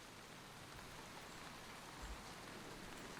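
Steady summer rain falls in Devon, a dense even hiss of drops on surfaces, soft and continuous with no voices.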